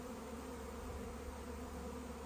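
Honeybees swarming outdoors, many wings fanning into a dense, continuous buzzing drone at low volume, steady with no breaks and no voices.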